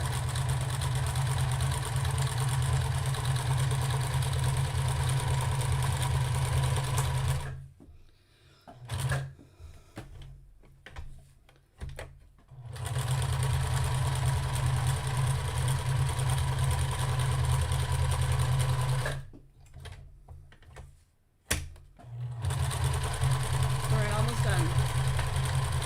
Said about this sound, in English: I can't get my sewing machine closer